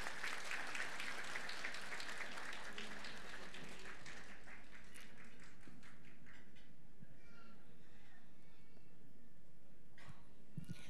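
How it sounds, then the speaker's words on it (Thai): Wedding guests clapping for the bride's father at a Thai wedding ceremony, a burst of applause that fades away after a few seconds, followed by quiet room noise and a couple of faint sounds. "ปรบมือให้ท่านหน่อยนะคะ"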